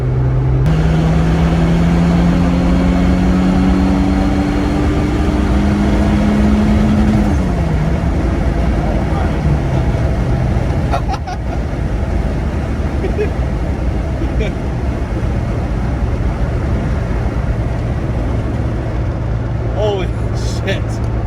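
A turbocharged Honda Civic, a cheap $800 eBay build freshly tuned, pulls hard from inside the cabin, its engine droning and rising in pitch through long gears, with people talking over the roar.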